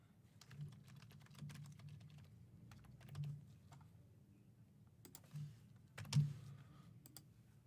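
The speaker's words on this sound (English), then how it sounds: "So I'm just gonna type it back out." Slow typing on a computer keyboard, scattered close clicks with pauses between bursts over a faint background hum and a few soft bumps.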